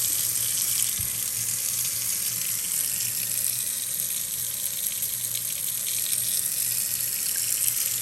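A Kohler kitchen faucet runs steadily into a sink as the water warms, a constant hissing splash of water that holds at an even level throughout.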